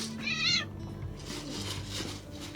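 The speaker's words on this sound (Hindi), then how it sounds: "21 बिल्लियाँ तो यहीं पर हैं" Cats meow on Cat Island in Japan, one clear close meow standing out early over soft background murmur and faint distant chatter.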